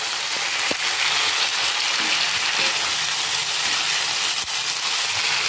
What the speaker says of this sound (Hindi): तो मैं सारी सब्जी डाल ली और इसको चला लूँगी।